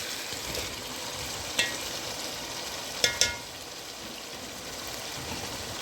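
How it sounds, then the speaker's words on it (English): Frozen peas go into mutton frying in a pan for curry, a soft steady sizzle under close, quiet kitchen ambience with a few sharp clinks of utensils against the pan. "my meat getting fried nicely. Here goes my frozen peas"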